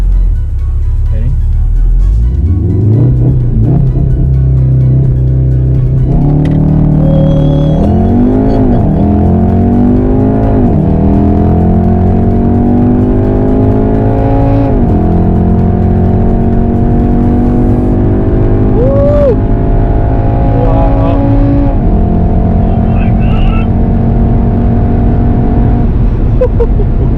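A Volkswagen Golf R MK7.5 launches hard and accelerates through several gears, its engine note climbing and dropping at each shift, loud and close from inside the cabin with people talking over it.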